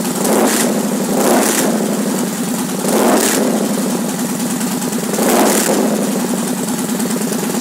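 A fuel-injected 106 cubic inch V-twin engine on a 2011 Victory Vegas motorcycle revs loudly and close by, with several throttle blips rising above a steady rumbling idle.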